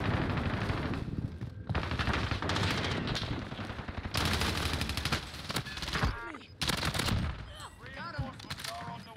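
MAC 10 submachine gun fire in the video game Warzone, loud rapid automatic bursts that repeat almost continuously with brief gaps, while a player talks over the action.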